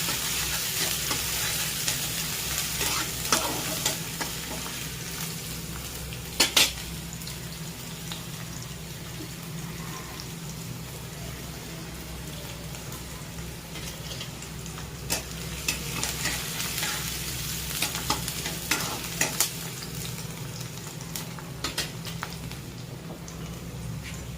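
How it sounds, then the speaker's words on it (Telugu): Onions, garlic and chopped ginger fry in a pan for coriander lemon chicken, giving a soft, steady sizzle broken by occasional scraping clicks of stirring. "ఇది కొంచెం వేగనివ్వాలి"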